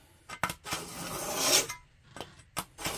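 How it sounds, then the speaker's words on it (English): A Smith's machete and axe sharpener is drawn along a machete blade in several rasping strokes, the longest a drawn-out gritty scrape near the middle, with shorter strokes before and after and brief pauses between them, close and with no talk. "You take the machete, put it in a vise, or hold it down, whichever you've got, and you just run it"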